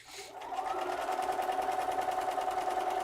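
A sewing machine quilting a quilt starts up and runs steadily at an even, rapid pace with a close, humming whir and continuous stitching rhythm.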